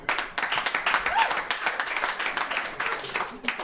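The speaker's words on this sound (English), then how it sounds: "Let's clap for the midget." Audience applause at a stand-up comedy show: a brief burst of dense clapping that swells, dips and picks up again, moderately close and fairly quiet overall.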